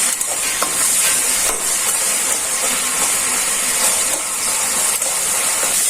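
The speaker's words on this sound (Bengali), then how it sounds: "এখন চিংড়ি মাছটা পেঁয়াজটা স্বাদ মতো লবণ দিয়ে ভাজা নেই" Prawns and onion frying with salt in a pan, a loud, close, continuous hissing sizzle broken by a few stirring clicks and scrapes, with no voices.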